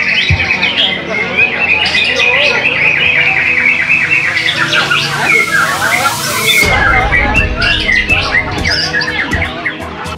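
Magpie robins sing in loud, dense overlapping phrases at a crowded bird song contest, with busy chirps and warbles filling the whole stretch amid crowd noise and voices.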